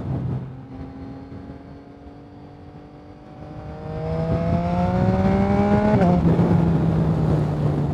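A motorcycle accelerating through second gear, engine pitch climbing steadily and growing louder, a brief dip at a shift, then pulling on strongly, close and alone.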